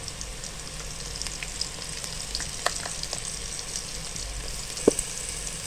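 Garlic and onion fry steadily in a pan for a Turkish soup, giving a soft, continuous sizzle with occasional small pops and stirring clicks, close and fairly quiet, with no talking.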